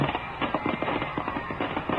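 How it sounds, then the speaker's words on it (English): Fireworks set off by pension marchers, heard as a radio drama sound effect: a dense run of sharp crackling pops and bangs, fairly close and continuous for the whole stretch, with no voices. "Pension marchers setting off fireworks."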